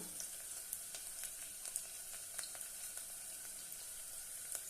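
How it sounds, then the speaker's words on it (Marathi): Slit green chillies and bay leaves sizzle in hot oil, a bright continuous crackle with scattered sharp pops spread across the stretch, close up and fairly quiet, with no voices. "त्यामध्ये दोन हिरव्या मिरच्या उभ्या चिरून घेतलेल्या आहेत ते घालूया दोन तेजपत्ते घालूया"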